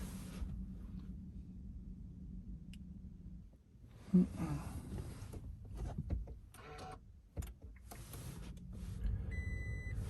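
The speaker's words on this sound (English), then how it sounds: "So here, I'll just turn off my truck." A 3rd gen Toyota Tacoma pickup is switched off, its steady low idle hum dropping away. A few faint clicks and a beep follow in the quiet cab, then a low rumble returns.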